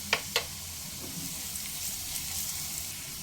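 Onions and garlic fry in a pan as they are stirred, a steady, moderate hiss with two sharp spoon clinks at the start and lighter scrapes after, with no talking.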